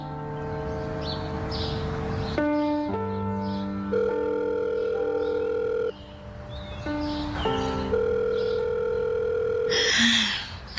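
A telephone handset sounds steady electronic ring tones while the caller waits for an answer in a Filipino drama, the tones shifting in pitch in long sustained stretches and ending with a brief higher chirp.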